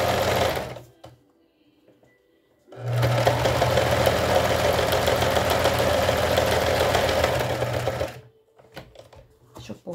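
A sewing machine runs a zigzag stitch on lace for a traditional swimmer-style bra: one sustained, close, steady whirring burst of about five seconds, with quiet pauses before and after.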